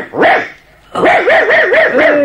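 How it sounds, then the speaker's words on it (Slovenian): A small, shaggy dog tied to a doghouse barks several times, loud and close: one sharp yelp, a pause, then a quick run of four or five yappy barks. "Majhen skuštran psiček je, privezan je k pasji uti."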